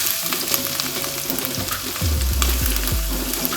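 Grated garlic, ginger and green chillies sauté in a pan with a steady sizzle, while a utensil stirs and knocks against the pan in a few low thumps near the end.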